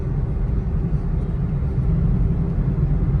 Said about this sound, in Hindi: तो जाम मिला है, लेकिन चलो, मूविंग ट्रैफिक है